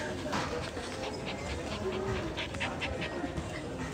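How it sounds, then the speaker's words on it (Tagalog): A dog whimpers and pants close by under noisy background chatter, with soft, repeated whines and breathy huffs mixed into people talking. "Yung aso ko na kinakain ako."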